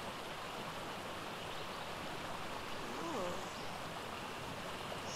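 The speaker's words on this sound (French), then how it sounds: "C'est joli avec tous ces petites cascades" Small waterfalls in the video game ARK Aquatica, a soft continuous rushing of flowing water heard at a moderate distance, steady and fairly quiet, with a faint warbling chirp midway.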